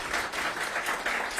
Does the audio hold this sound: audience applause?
yes